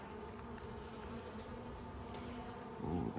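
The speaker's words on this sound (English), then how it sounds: "There seems to be a good amount of bees" Honeybees swarming in an opened hive during a spring inspection, a steady, dense buzzing hum close by with no talking, growing slightly louder near the end.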